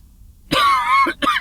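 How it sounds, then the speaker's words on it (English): A person stealth camping in a cemetery on a cold night, with a lingering two-week illness, lets out a harsh, close cough of three bursts: a long raspy hack followed by two shorter ones. "I'm really sorry about that cough"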